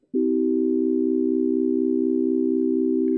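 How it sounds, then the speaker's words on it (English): A steady sustained electronic major triad of pure tones in just intonation starts abruptly and holds without wavering, smooth and stable, with no other sounds. "Let's compare it to a major triad with just intonation."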